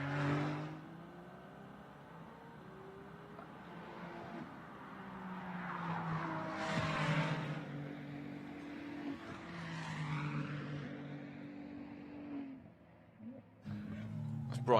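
A Ferrari Challenge race car at Laguna Seca drives through the exit of a turn, its engine rising and falling through gear changes with some tire noise, heard alongside commentary.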